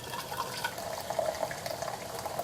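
Hot hojicha tea poured out from a small teapot, a soft, steady trickling and splashing of liquid heard close and fairly quiet, continuous for the whole moment with no voices.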